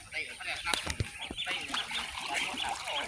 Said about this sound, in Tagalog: Ito ang alaga kong bibi.